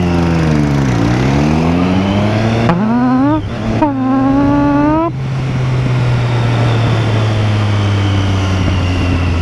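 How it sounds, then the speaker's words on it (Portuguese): Motorcycle engine riding through city traffic in Joinville, a loud close steady drone with gear shifts and rising revs, no talking. "Eu amo o barulho da minha moto."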